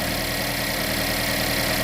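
A car engine idles steadily during a MAP sensor vacuum test, a continuous even rumble with a dense low hum, close and alone with no talk.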